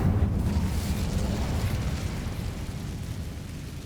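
In Hogwarts Legacy, an Incendio fire spell erupts as a deep, rumbling burst that starts loud and slowly fades over several seconds, heard alone.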